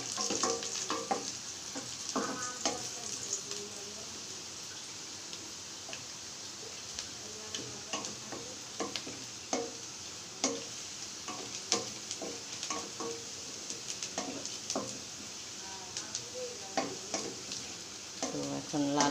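Fried onions and chopped garlic sizzle steadily in a pan while a utensil stirs them, scraping and tapping the pan in frequent irregular clicks over the constant frying hiss.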